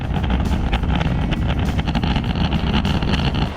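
Strong wind buffets the microphone along a seaside road on Jeju while riding a manual kick scooter, a steady loud roaring rush with gusty low rumble throughout, no talking.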